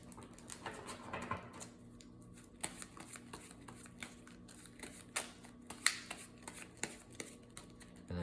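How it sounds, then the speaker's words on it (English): Quiet riffle-shuffling of a player deck of cards for a Spider-Man vs. Venom Goblin card game, a soft papery flutter with scattered sharp snaps and taps, close and steady with no talking. "let's shuffle up the player deck here"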